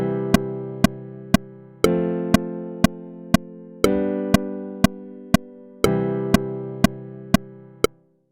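A synthesized chord progression of three sustained chords, each struck together with an even, steady tick, ending with a short final hit.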